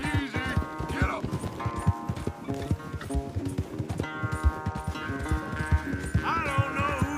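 Hoofbeats of horses galloping in Red Dead Redemption 2 during a race, a steady clip-clop rhythm running throughout with game music and brief voices over it.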